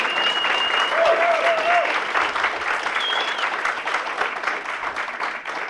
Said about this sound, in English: can we give them a round of applause for that?